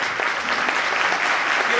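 Steady applause from a seated audience at an indoor network-marketing training program in Meerut, dense clapping filling the room without a break.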